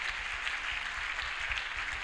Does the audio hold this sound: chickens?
no